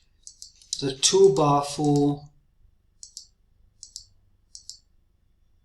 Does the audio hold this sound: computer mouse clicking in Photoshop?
yes